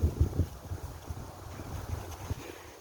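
Strong wind gusts outdoors on a playground after rain, buffeting the microphone with low rumbling bursts and a steady rushing noise, with no one talking.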